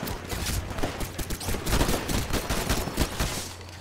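Pistol fire in a Titanfall multiplayer match on Xbox One: rapid, close shots crackle in a dense burst amid other battle gunfire and a low game rumble.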